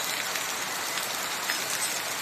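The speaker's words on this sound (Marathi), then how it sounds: "हे बघा कसा मुसळधार पाऊस पडतोय" Heavy monsoon downpour on a farm, a dense, steady hiss of rain filling the whole stretch without break, close and fairly loud, no voices.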